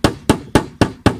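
The broad side of a chalk hammer strikes octopus bait five times in a steady quick rhythm, close and sharp, each blow a dull thud with no voices.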